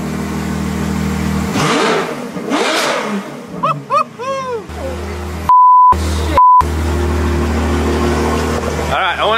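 A Ferrari F12 Berlinetta with a catless Fi exhaust idles then roars through two big revs and a quick series of crisp blips, close by, followed by two loud electronic beeps and nearby voices.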